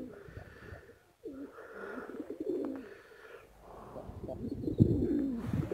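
Perched white pigeons coo in soft, low, throaty bursts close by, repeating irregularly with brief pauses and rustling between calls.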